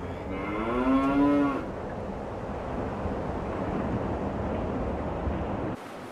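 A single cow lets out a loud, close moo lasting about a second, then a steady outdoor rush of wind fills the rest of the clip.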